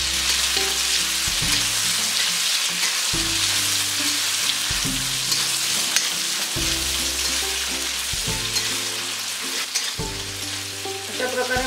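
Chopped onion sizzling in hot oil in a pan for a Malvani spice paste, a steady loud crackle running the whole time with no talk over it.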